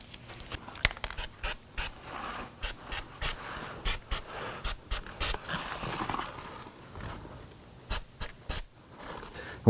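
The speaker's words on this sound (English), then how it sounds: "spray this with a little bit of anti-seize compound" Short hissing bursts of anti-seize compound spray on a rear brake job of a Subaru Legacy repeat in quick uneven puffs, close and fairly soft, over a low background hum.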